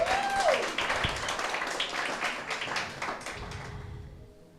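A church congregation at an evening Spanish sermon claps together, a dense, moderately loud burst of applause that gradually thins out and fades toward the end.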